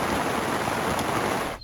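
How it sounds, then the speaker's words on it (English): Rain at a wild camping spot in the Pyrenees of Spain in high summer, a dense, even hiss of falling water heard up close, steady throughout before cutting off abruptly near the end. "Oh shit. It rained."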